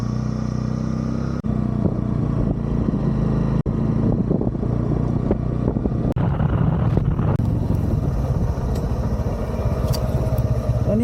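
Honda CB Hornet 125 motorcycle being ridden, a steady low engine drone with wind rush on the microphone running throughout at close range, no talk.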